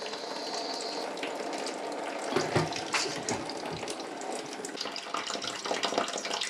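Water pouring out of a cut toilet drain pipe at the lowest point of a house's plumbing, a continuous splashing gush close by with irregular spatters and gurgles, no talking.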